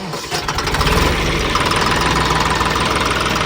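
John Deere 5210 V2 tractor diesel engine running close by, a loud steady throbbing drone with a rapid knocking pulse throughout.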